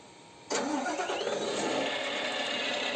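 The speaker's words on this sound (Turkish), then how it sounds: "Şimdi öncelikle motoru çalıştırıyorum." A car engine in a driving simulator game cranks and catches at once, then settles into a steady, loud idle that runs to the end with no talk.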